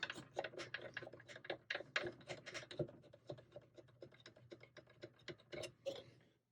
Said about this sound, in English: I'm just going to get that nut started onto this bolt.